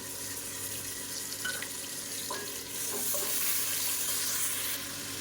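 Onion and ginger garlic paste fry for mutton dalcha, a continuous sizzle with stirring scrapes, swelling louder midway as the paste hits the hot fat.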